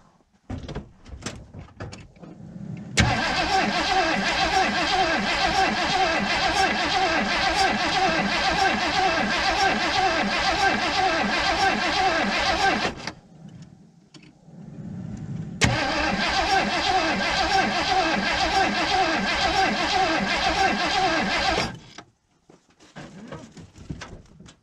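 A 1980 Ford Bronco that has sat for 18 months cranks in two long, loud, steady bursts, about ten and six seconds, with a quiet pause between and brief softer noises before and after.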